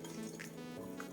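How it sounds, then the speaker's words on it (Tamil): Water is poured into a pot over lamb legs for a paaya stew, a brief, steady liquid pour heard up close. "இதில் தேவையான அளவு தண்ணி ஊற்றிக்கோங்க."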